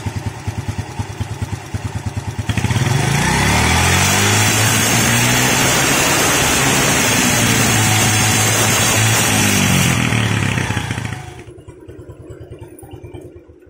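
Older Yamaha Vega R motorcycle engine with a fullwave charging conversion, idling with a steady close putter before the throttle is opened into a loud, sustained rev lasting several seconds, then dropping back to idle.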